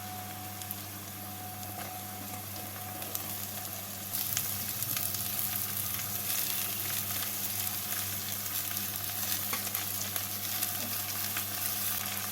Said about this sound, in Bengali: আলু বেগুন আর মূলোগুলোকে দিয়ে হালকা করে ভেজে নিচ্ছি